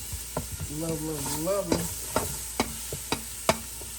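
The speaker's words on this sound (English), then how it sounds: "So we're going to let this saute around in there for a little bit." Vegetables sautéing in olive oil for a loaded gumbo, a constant frying hiss with sharp clinks of a spoon against the pot as it is stirred, while a voice briefly hums or sings over it.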